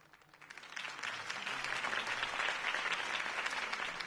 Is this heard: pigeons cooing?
no